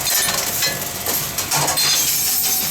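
Glass containers rattle, clink and clatter inside a Tomra T-63 Trisort reverse vending machine at a supermarket, a loud, continuous jumble of knocks and chinks close by, with no talking.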